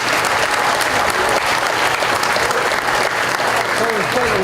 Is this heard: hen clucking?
no